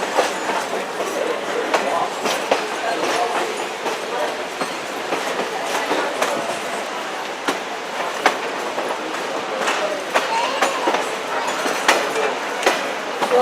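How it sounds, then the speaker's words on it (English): A steam train on a railroad excursion rolls along the rails with steady clickety-clack, rumble and rattling wagon noise, loud and close for the whole stretch. "please enjoy the sounds of the train"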